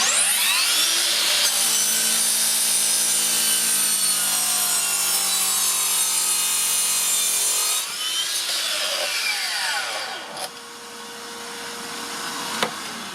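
A Makita 40V XGT 12-inch mitre saw whines loudly as it strains through a cut, its pitch sagging and recovering under load before spinning down and revving again, close and continuous with no talking.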